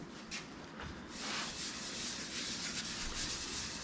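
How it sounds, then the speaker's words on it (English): Coarse grit polish is rubbed by hand into a turned maple vase, producing a close, continuous abrasive swishing that grows louder and steadier after the first second. "You just put it on and rub it in. It is a grit"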